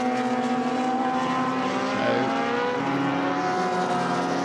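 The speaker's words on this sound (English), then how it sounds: "that car coming well up the order, started in 13th place, now up to 6th place, and he is chasing the De Silvas" A historic sports racing car from the HSCC Thundersports series passing at a circuit, a loud sustained engine roar with shifting tones that swells and fades slightly, with no talk.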